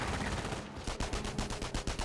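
An MG42 machine gun in the video game Company of Heroes fires rapid rhythmic bursts, loud and close, with clattering reports suppressing a squad.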